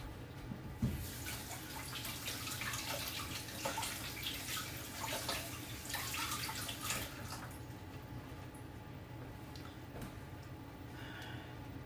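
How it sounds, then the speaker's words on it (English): Tap water running while hands are washed at a kitchen sink, a steady splashing flow that thins out toward the end, heard alone. "Now, let me wash my hands."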